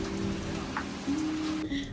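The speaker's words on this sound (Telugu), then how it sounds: "అప్పటికే వర్షం కూడా స్టార్ట్ అయ్యింది." Rain falls in a steady patter of drops on surfaces, a short continuous hiss with a low hum underneath and no voices.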